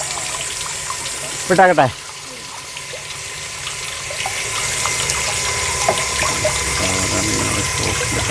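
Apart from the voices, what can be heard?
water gushing from BLDC solar submersible pump outlet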